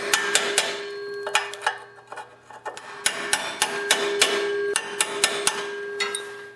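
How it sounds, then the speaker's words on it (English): A hammer repeatedly strikes a chisel to bend the locking plate tab on Tecumseh muffler bolts, producing a close, loud series of sharp metallic clanks in irregular bursts, with brief ringing between blows. "and a hammer to do this. So I'm just going to put my chisel over here."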